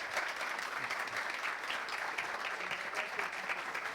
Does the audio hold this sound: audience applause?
yes